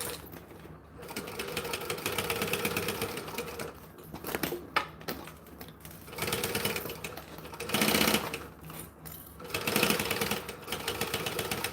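A sewing machine stitches in quick rattling bursts, starting and stopping several times with short pauses, close by and fairly quiet, with no talking.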